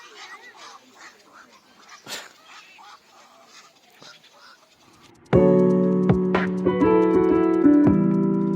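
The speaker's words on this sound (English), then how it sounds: "There's a hell of a lot of birds. They're kind of like ducks." Scattered calls from a large flock of duck-like birds with pointed beaks, heard outdoors in a valley on a hike to Xueshan. Irregular quacks and honks sound at a moderate distance, and then a louder, sustained, tonal sound takes over midway.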